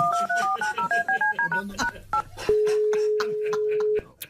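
A telephone dials out with a quick run of paired DTMF keypad beeps, followed by a long steady ringing tone, close and clear, with a few brief clicks and sounds in between.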